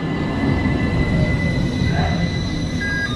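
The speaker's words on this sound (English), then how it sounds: "Just press it, and that's the tram." A tram rolling in on rails in Istanbul, with a steady low rumble and thin high squealing tones from the wheels, heard close by and continuous, no talking.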